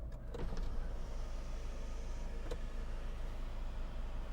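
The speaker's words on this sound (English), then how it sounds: "tilt and slide electric sunroof" The tilt-and-slide electric sunroof motor of a 2013 Hyundai ix35 whirs steadily at low volume against a constant hum, with a faint click partway through.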